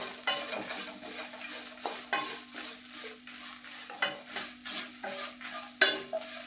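Mustard seeds, fenugreek and cumin fry in a pan with a crackling sizzle, broken by sharp spitting pops and utensil clicks, over a low steady hum.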